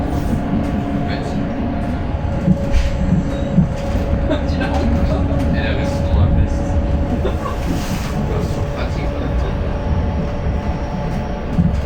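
Continuous rumble and rattle of the GoldenPass Swiss mountain train climbing from Montreux, heard from inside a carriage, with a steady drone, clunks and faint voices underneath.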